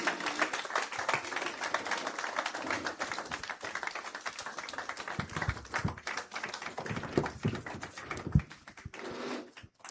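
Audience at a Nigerian energy conference applauding, a dense, steady patter of many clapping hands lasting throughout, fairly loud and continuous with no voices.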